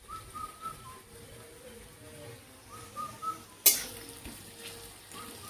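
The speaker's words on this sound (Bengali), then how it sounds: "এখন কুমড়ো ভাজাটা হয়ে গেলে নামিয়ে ফেলবো।" Pumpkin slices fry in a pan with a soft, faint sizzle, while outdoor birds whistle intermittently and a sharp clatter sounds near the end.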